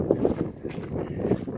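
Gusting wind buffets the microphone outdoors on a dusty driveway, a low uneven rumble that swells and eases over a short stretch with no talk.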